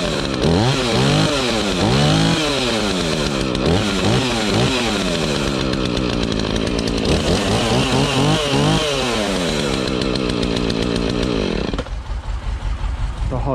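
A chainsaw runs in a forest, its engine revving up and down in repeated rising and falling surges, loud and close, then dropping to a rougher idle near the end.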